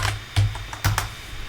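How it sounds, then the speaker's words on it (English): Computer keyboard typing with a few sharp separate key clacks spread over a moment of quiet room tone, close by and alone. "kind of just typing it from memory"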